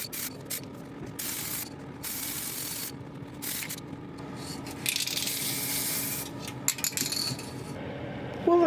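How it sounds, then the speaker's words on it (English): An aerosol spray can hisses a first coat of paint onto a small sanded part, in several separate bursts with short pauses between them, close and steady. "So I'm going to spray it."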